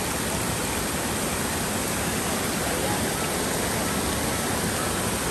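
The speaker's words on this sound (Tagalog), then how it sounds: "Batis." Steady, loud broadband rush of a stream pouring at a waterfall, a constant hiss of flowing water filling the whole stretch with no pauses or talking.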